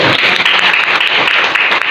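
Applause from a group watching a classroom presentation on congregational prayer, a dense steady burst of clapping lasting a couple of seconds with no talk.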